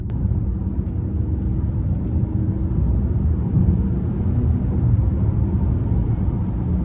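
A 2024 Hyundai Santa Cruz Night pickup with a 2.5-liter turbo four-cylinder and dual-clutch transmission on the move, a steady low road and engine rumble filling the cabin with no talking.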